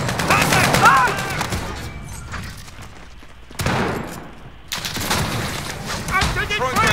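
Gunfire in the video game Call of Duty Warzone: dense, rapid bursts of automatic shots crackle in loud stretches separated by brief lulls, mixed with game voices and battlefield clutter.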